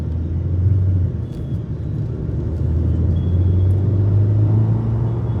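A Mercedes-Benz E200 with a full AMG kit pulls away under acceleration, a steady low engine rumble heard from inside the car with the drone rising slightly as it pushes on, no talking.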